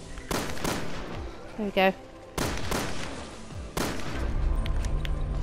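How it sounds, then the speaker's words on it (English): Gunshots ring out in Resident Evil Revelations 2 Raid Mode as enemies are shot, a few sharp loud blasts spaced apart with game noise between, while a player speaks briefly. "I just love shooting them"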